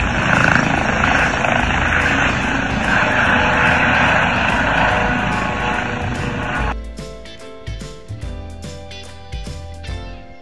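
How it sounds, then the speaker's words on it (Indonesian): Blue helicopter, loud and steady with a dense rotor and engine roar for most of the span, then cutting off abruptly into quieter clicks and scattered knocks. "Helikopter berwarna biru."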